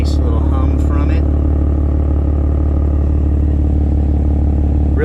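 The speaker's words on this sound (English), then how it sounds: "Right now you can see that it's just idling, so you get a nice little hum from it" A new BMW M3 with an M Performance exhaust idles with a steady low exhaust hum and rumble, close by, while a person talks over it.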